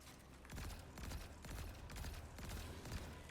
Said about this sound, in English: I am using an exotic pulse rifle, Void.